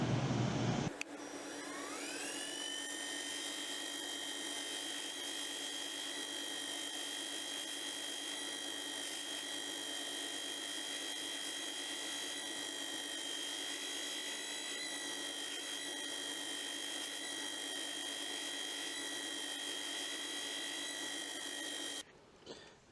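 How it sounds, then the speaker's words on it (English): Buffing wheel spinning up and polishing an antler-handled knife made from a rasp, using compound, a steady droning whir with a rising whine at spin-up, holding evenly for about twenty seconds before cutting off. "let's get to buffing this"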